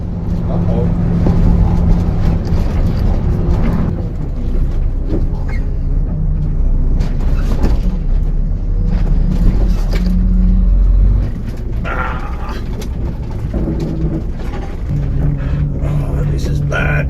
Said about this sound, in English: do you remember the very bumpy ride of this bus in one of my previous videos?